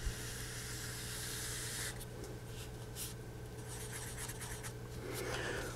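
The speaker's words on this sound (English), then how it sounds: "And I'll draw the line in." A marker draws a line on a board during a math lesson on the logistic equation with harvesting: faint squeaky scratching strokes over a steady background hum, with short bursts of rubbing in the middle.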